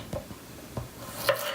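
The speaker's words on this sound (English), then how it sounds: "I'm gonna cut up the garlic." A knife chops garlic on a cutting board in a home kitchen while Mexican red rice is being made, giving a few sparse, light taps spaced apart, quiet and close with soft room hiss between strikes.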